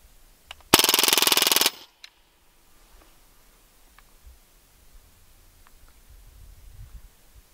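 Automatic air rifle firing pellets in one rapid, loud burst lasting about a second outdoors, followed by faint rustling and quiet background.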